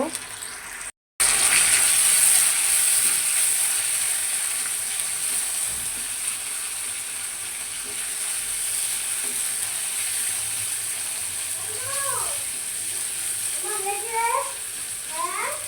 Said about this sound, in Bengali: শুটকি রান্নার জন্য আমি কড়াইতে তেল, পেঁয়াজ আর রসুন দিয়ে দিচ্ছি।